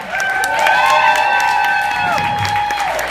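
A live audience cheers and applauds for the performer Bjork, a loud, dense crowd roar with whoops and high shouts rising above sustained clapping throughout.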